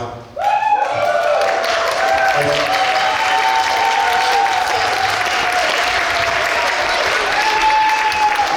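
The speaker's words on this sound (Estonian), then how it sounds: "Ja veel kord, aplaus." An audience at a school dance festival concert in Tartumaa, Estonia, applauds after a dance performance with loud, sustained clapping that goes on for several seconds, and a voice is faintly audible underneath.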